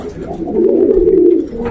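Pakistani high flying pigeons cooing in a cage, a low, soft throaty coo that rises and rolls for a moment, close and clear.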